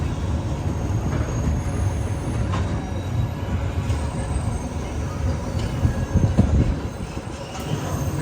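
The Jamnagar–Tirunelveli Express rolls along in a sustained loud rumble, heard from inside the sleeper class, with rail rattle, occasional squeals and clanks, and faint background voices.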